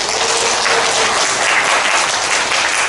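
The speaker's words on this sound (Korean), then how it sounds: "박수 한번 주시기 바랍니다." Steady applause from a crowd at a speech contest, dense and continuous clapping throughout with no pauses.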